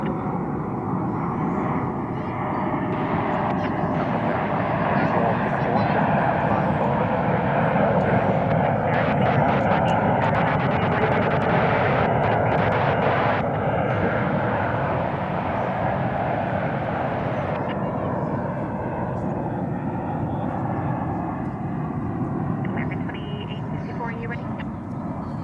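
Airliners taxi and hold on a runway at DFW Airport at night, their jet engines making a continuous, fairly loud roar that swells and fades slightly, with voices talking over it.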